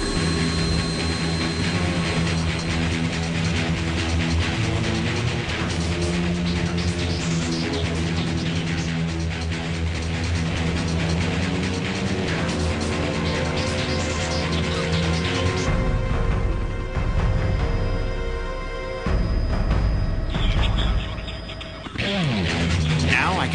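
A loud, steady MV-22 Osprey tiltrotor aircraft engine drone with a rising turbine whine, shifting in pitch near the end, while a voice speaks over it.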